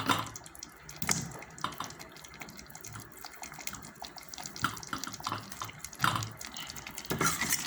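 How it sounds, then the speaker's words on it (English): Tap water runs and splashes into a pot of thickening ogbono soup with uziza leaf, an uneven trickle with brief louder gushes and drips near the start and end, no voices present. "I'm going to add a little bit of water."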